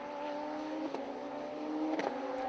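Radical race car, the number 25 entry working through the field at Snetterton circuit, sounds as a steady engine drone with strong harmonic tones and brief shifts of pitch, heard at a moderate distance with no talk.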